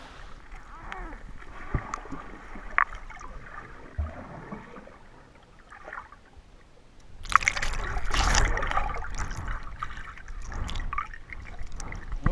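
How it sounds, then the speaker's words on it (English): Plunge into the Devil's Bathtub swimming hole in Virginia: quiet trickling water and light splashes give way to a loud rushing splash and churning water, then continued sloshing, with voices faintly mixed in. "what do you say we go for a plunge in the Devil's swimming hole now?"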